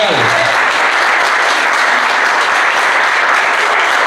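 Dense audience applause at a small-town local event in Jovita, a steady roar of many clapping hands that holds at full loudness throughout without a break.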